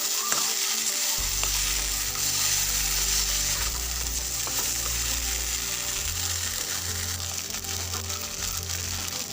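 Potatoes fry in a pan for an egg curry, making a loud, continuous close sizzle with occasional scraping stirs.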